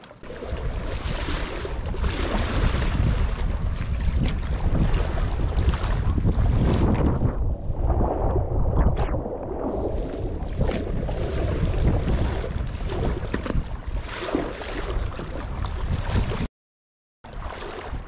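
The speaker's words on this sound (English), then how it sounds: "windy, rainy paradise." Strong gusting wind roars across the microphone nearly the whole time, with choppy water and rain-like wash underneath from a lake in shallow water, Loch Lomond, briefly cutting out near the end.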